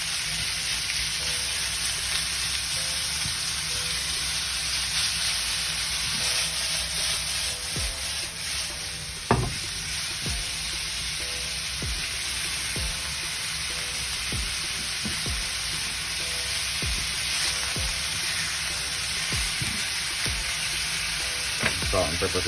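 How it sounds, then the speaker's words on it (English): Ground beef sizzles steadily in a hot pan, seasoned with salt and pepper, while a utensil breaks it apart with scattered scraping strokes and one sharper knock, loud and close throughout with no voices. "Just going to go ahead and break up the beef."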